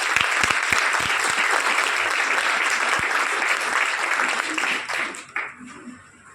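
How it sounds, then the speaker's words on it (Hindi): Applause from an audience at a product meeting, a dense burst of clapping that holds steady for several seconds, then thins out and fades away. "तो इसके लिए एक ताली तो बनती है।"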